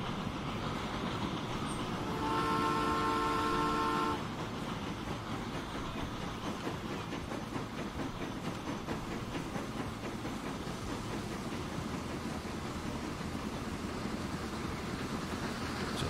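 A train rolls on rails in the video game Transport Fever 2, giving a steady mechanical rumble with faint clicking and a brief tonal signal chime early on, without speech.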